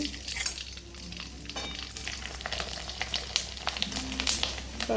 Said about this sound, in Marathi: तर कुरडया तळून घेते